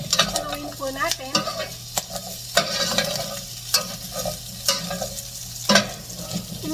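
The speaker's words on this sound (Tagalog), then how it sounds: "Haluin po natin." Igado being stirred in a frying pan, with repeated scraping and clinking of the utensil against the pan over a steady sizzle and low hum, close and moderately loud, no talking.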